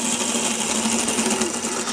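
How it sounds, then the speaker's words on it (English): A spindle gouge cuts wood spinning on a lathe, producing a steady, close buzzing hum with a faint tonal whine and an even rough texture throughout. "now we're gonna have to start working some of this out of here with a spindle gouge"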